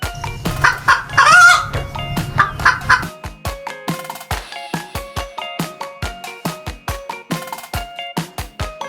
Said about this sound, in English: The hen is taking care of her cute little chicks.